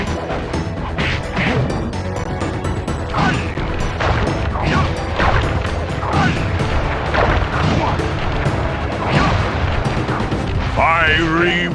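Rapid booming chop strikes from the Sly Cooper boss fight on PS5, a dense barrage of heavy whacks and crashes with game music and character voices shouting throughout, loud and close.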